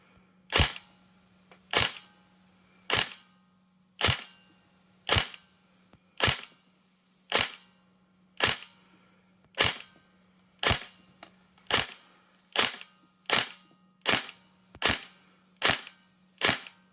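Tokyo Marui 416 Delta airsoft rifle firing single shots through a chronograph, about fifteen sharp, evenly spaced cracks roughly one per second over a steady low hum, with no talking.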